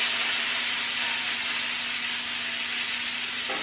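A piece of steak sears in a hot pan with a steady, dense sizzling hiss that holds unbroken and close for a few seconds.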